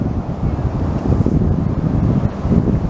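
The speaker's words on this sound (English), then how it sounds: "see the waves." Wind and ocean surf at Stinson Beach, a steady broadband rumble of breaking waves mixed with gusting wind buffeting the microphone, loud and continuous throughout with no talking.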